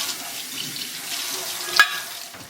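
A French press filter and filter screen are rinsed under a running kitchen tap, with a steady hiss of water, a brief metallic tap near the end, and no talking.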